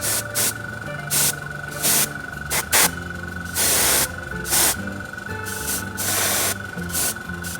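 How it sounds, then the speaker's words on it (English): An airbrush sprays paint onto a tabletop miniature in short hissing bursts of varying length, separated by brief pauses, up close over a faint steady background hum. "Just few shots from the airbrush here and there."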